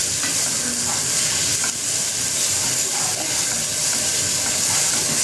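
An amla mixture with turmeric is stirred in a hot pan, giving a continuous close sizzle with a scraping, stirring texture throughout and no talking.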